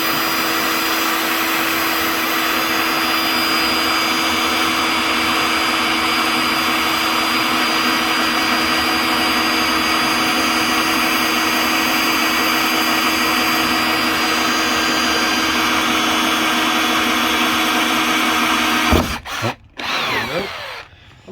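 A power drill cuts a parking sensor hole into a Ford Fiesta MK7 bumper, a loud, sustained, close whirring whine for nearly twenty seconds before spinning down with a few brief clunks at the end.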